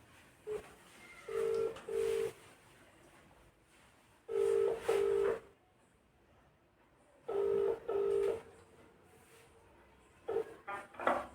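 A phone call is placed, with short dial tones and then evenly spaced ringback bursts repeating in a steady pattern, clear and fairly quiet with no talk.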